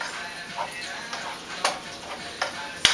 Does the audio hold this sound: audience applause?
no